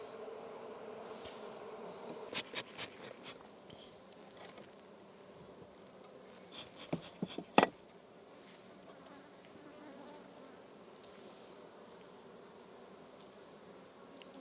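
Honey bees hum softly around a Langstroth hive, a faint steady drone with a few louder buzzing passes and short knocks or taps near the middle.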